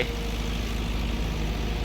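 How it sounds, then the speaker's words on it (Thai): A farm tractor engine idling while parked, a steady close low rumble with an even, continuous drone and no change in pitch throughout. "จอดก่อนครับรถไถ"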